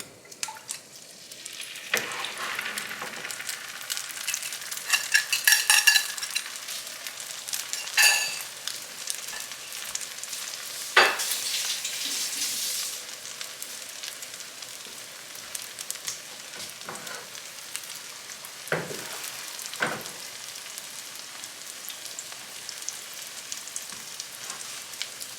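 Haitian-style eggs frying in a pan: a bright, crackling sizzle rises and falls at close range, broken by occasional sharp scrapes and pokes, with no one speaking.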